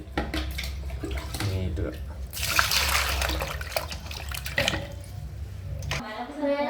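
Water poured over fish pieces being washed with salt and turmeric, gushing and splashing in bursts between stretches of speech.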